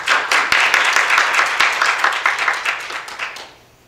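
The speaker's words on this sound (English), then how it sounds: "please, let's give our kids a hand" A church congregation applauds the children at a Sunday morning worship service in a brief, dense burst of clapping that trails off at the end.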